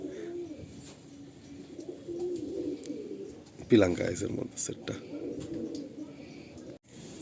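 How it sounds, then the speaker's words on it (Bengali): Malwai pigeons in a loft give low, steady cooing throughout, with a louder fluttery burst midway, while someone talks nearby. "কত সুন্দর পায়রা,"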